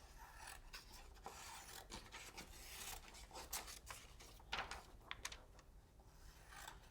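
Scissors or a blade cutting a sheet of laser copy paper, a quiet run of dry rasping, rubbing strokes that come in uneven bursts at close range with no talk.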